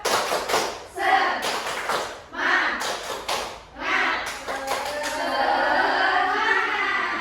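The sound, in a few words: class doing a rhythmic spirit clap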